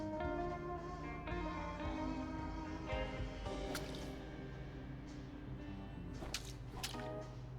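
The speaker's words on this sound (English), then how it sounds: "Mopping the floor seems to be a pretty" Wet mopping in Crime Scene Cleaner, with soft squishy swishes and drips under a steady humming game background, plus a few sharper wet slaps toward the end.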